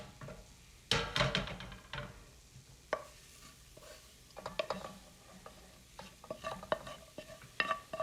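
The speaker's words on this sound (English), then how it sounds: "I'm gonna stir in the ground beef" Vegan ground beef made from nuts and mushrooms is stirred in a pan, close scraping and clacking spoon strokes in uneven bursts over a soft sizzle, no talking.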